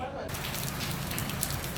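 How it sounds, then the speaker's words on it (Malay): Steady morning rain falls across a hotel setting in Penang, a dense, even hiss of drops with no distinct pattern, fairly close and constant throughout. "Hujan lah pula pagi ni."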